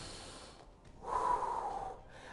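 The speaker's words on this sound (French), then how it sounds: "On inspire." A single deep inhale through the nose, drawn in over about a second and close to the microphone, taken by a host on a French QuizCash game show, with no talking during the breath.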